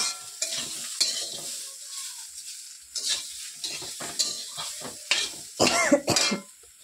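A curry stirred and fried with salt in a pan, brisk spoon scrapes and sizzling bursts with pauses between, close by, plus a brief cough or throat clearing.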